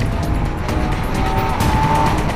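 Porsche Boxster S with a 315 bhp 3.4-litre direct-injection engine, driven hard; a steady, loud engine roar holds throughout with a faint tyre squeal, close and alone.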